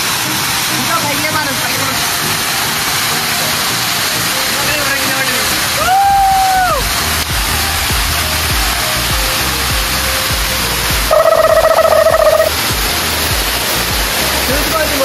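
Kattuva waterfall roars as a constant, loud rush of falling water that fills the whole clip. Two short tonal bursts, like whistles or calls, rise above the steady wash partway through and near the end.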